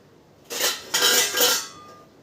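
A metal pot of rice is set onto a gas stove, giving a few close clanking scrapes of cookware on the burner grate over roughly a second and a half, with no talk.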